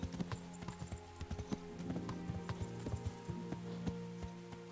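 Steady clip-clop of horse hooves in the video game Kingdom Come: Deliverance, a continuous rhythmic patter of hoofbeats at moderate distance, fairly quiet, with no voices.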